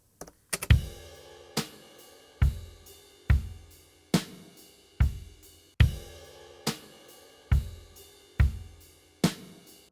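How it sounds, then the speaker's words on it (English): Drum track processed with Waves plugin effects: about a dozen sharp, evenly spaced hits with booming low kicks and bright decaying tails, loud and alone with no voices. "This is the sound of my drums with everything applied."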